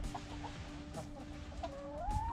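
Backyard chickens cluck and chatter at a moderate distance around a coop, with scattered short calls and a rising squawk near the end over a low ambient rumble.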